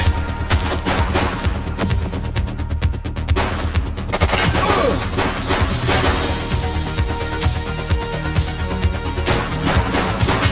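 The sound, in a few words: gunfire in The Precinct video game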